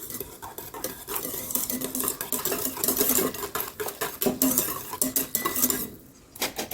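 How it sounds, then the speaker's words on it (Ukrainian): Rapid, steady clinking and scraping of a whisk against a bowl, mixing a yeast dough batter close by, briefly pausing near the end. "Вінчиком все розмішаємо."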